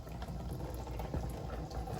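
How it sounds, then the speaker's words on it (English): Coolant trickling and gurgling from the drain of a Hummer H2 radiator into a pan below, a steady low liquid splash heard up close. "Draining your radiator"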